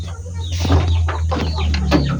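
Chickens on a small backyard farm, including a laying hen settling to brood, give a few short clucks close by over a steady low hum.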